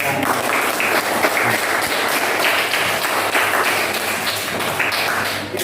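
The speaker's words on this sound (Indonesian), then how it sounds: "tepuk tangan" Classroom audience applauding during a lesson, a dense, steady wash of many hands clapping at close range for several seconds with no break.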